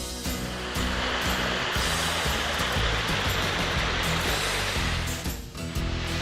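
A loud, steady roar of rushing water from Cane Creek Falls fills the whole stretch without pause, with no voices.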